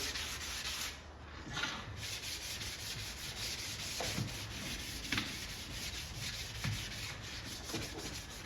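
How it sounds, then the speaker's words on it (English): Galvanized steel arcade machine parts with holes in them are sanded by hand with 400 grit sandpaper, making a continuous close scratchy rubbing with rhythmic back-and-forth strokes and no voices. "These are a little harder to sand with because it's got these holes in it."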